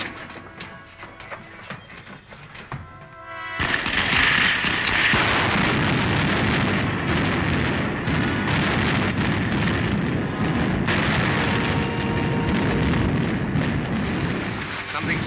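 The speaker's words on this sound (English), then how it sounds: "Fire the starting rockets." Starting rockets on a spaceship in a 1939 Buck Rogers serial roar to life, a sudden wide blast of rushing, crackling noise that starts a few seconds in and then holds steady and loud, following a quieter stretch of background sound.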